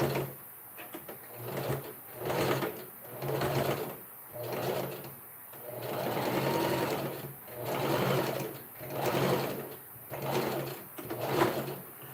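Sewing machine stitching Ankara fabric for a summer top, running in repeated bursts of steady whirring with brief pauses and mechanical clicks between them, close and moderately loud, with no talking.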